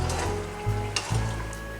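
Sizzling and hissing as a cup of water goes into minced meat keema frying in a pan for a tandoori-style dish, with stirring and scraping across a short burst and no talk.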